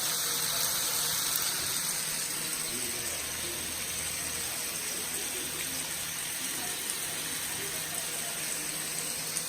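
Metal kitchen tongs rinsed under a running tap, a steady loud gush of water that continues unbroken throughout.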